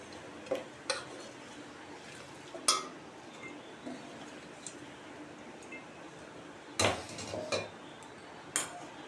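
Sliced eggplant and potato are tossed together in a bowl with a utensil, producing sparse, quiet clinks and scrapes at irregular intervals over a hushed room background.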